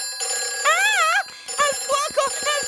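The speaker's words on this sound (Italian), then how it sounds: "Quello è il telefono delle emergenze." In a cartoon fire station, the emergency telephone rings with a wavering electronic trill: one long burst, a short gap, then a string of quicker pulsing rings, loud and clear.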